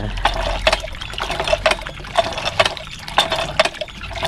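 Water gushes and splashes in uneven pulses from a hand-pumped tap, with rhythmic clanks of the pump handle between surges.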